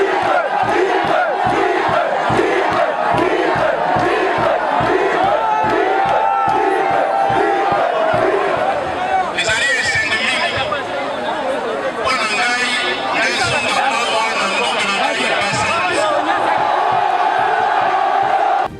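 A large, packed crowd at a political rally cheers and chants continuously, loud and rhythmic at first, then swelling into a dense roar of shouts and whoops.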